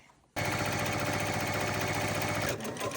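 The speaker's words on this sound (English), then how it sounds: "Now I'm going to go into the sewing machine and I'm going to sew that scant half an inch" Sewing machine stitching a scant half-inch quilt seam, a steady, loud, continuous mechanical whir that starts abruptly after a brief quiet moment and runs without pause, easing slightly near the end.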